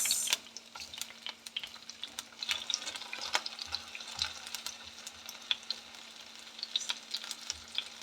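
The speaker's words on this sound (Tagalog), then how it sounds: "ipapry ko muna ng konti yung ating patatas" Potato pieces frying in oil in a pan for chicken mechado, a steady close crackling sizzle with scattered sharp pops and occasional stirring scrapes, no voices.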